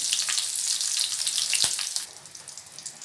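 Chopped green chili added to hot oil with mustard seeds while making mango pachadi, giving a loud, steady crackling sizzle close up with a brief sharp pop partway through.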